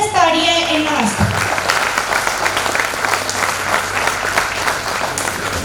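Loud, dense applause from a seminar audience at the Red Cross Bhawan in Jalandhar, breaking out just after a voice and sustaining steadily to the end.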